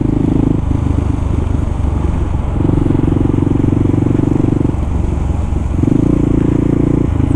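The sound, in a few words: Kawasaki KLR650 motorcycle riding on local roads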